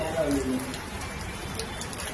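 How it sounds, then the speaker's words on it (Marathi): Heavy rain pours down on a monsoon morning, a steady dense hiss of drops on surfaces filling the whole stretch, with a voice speaking briefly over it. "हे बघा किती पाऊस पडतोय."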